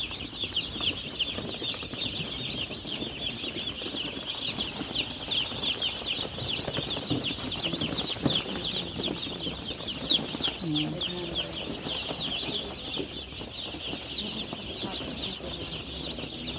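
Five hundred baby chicks cheep continuously in a dense, high-pitched chorus, constant and close, with faint rustling and a voice talking underneath.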